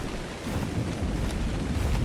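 A thunderstorm on an island in a video game: a steady, dense rumble of rain and wind that builds slightly, with a faint crack near the middle and no voices.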